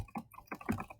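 Quick keystrokes on a computer keyboard, about half a dozen close clicks in rapid irregular rhythm, alone.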